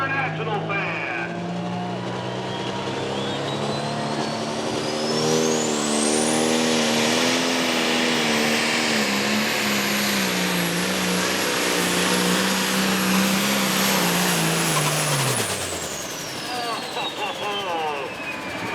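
A turbocharged truck engine pulls a sled at a tractor pull, its roar climbing in pitch while a loud turbo whistle rises and holds, then the engine drops off sharply near the end under an announcer's voice.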